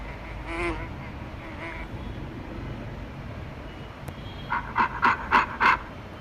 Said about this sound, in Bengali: এখানে মৌমাছি,